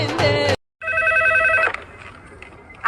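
A telephone rings with a bright repeating electronic tone, first in a short burst, then after a brief gap in a longer ring that fades into low background noise.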